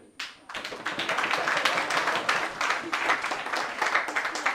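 An audience at a debate academies event applauds to welcome a guest patron, a sustained wash of many hands clapping that starts after a brief pause and holds steady, fairly near and full.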